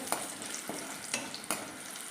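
Beef pieces frying in oil for a Kerala-style beef dry fry, a steady close sizzle broken by three or four sharp scraping clinks as the pieces are stirred, with no voices.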